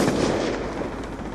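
Dense gunfire from Call of Duty: Black Ops 2 in a gun game match, a continuous burst of loud shots filling the short moment with no voices over it.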